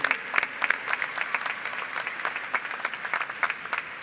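An audience at a college ceremony claps in a light, scattered round of applause, with individual claps distinct and moderately close.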